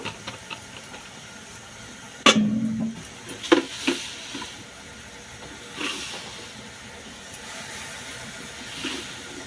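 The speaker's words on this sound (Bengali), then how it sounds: "কড়া গরম হয়ে গেছে এর মধ্যে অল্প একটু জল দিয়ে দেবো চিনিটা গলার জন্য" A little water splashed into a hot kadai to melt sugar gives a sudden sharp hiss and burst of steam, then a few crackles and a softer steady sizzle that fades, with no talking.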